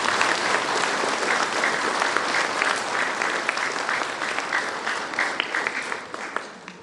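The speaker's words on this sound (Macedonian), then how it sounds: "Ќе ве молам еден аплауз за сите нив." Sustained audience applause at an annual concert of children's folk ensembles of the Ilinden cultural-artistic society, a dense steady wash of many hands clapping throughout, fairly loud and close, with no speech over it.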